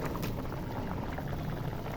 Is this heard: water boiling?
yes